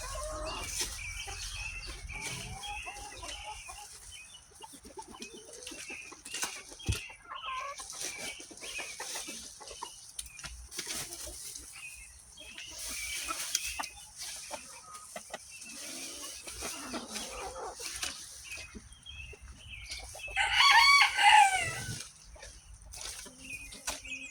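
Chickens in a muddy chicken run cluck and murmur steadily nearby outdoors, with one louder squawk toward the end.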